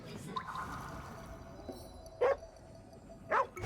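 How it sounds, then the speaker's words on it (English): A dog in a video game gives two short, sharp barks about a second apart over a quiet background of game ambience. "I think this doggy wants some food."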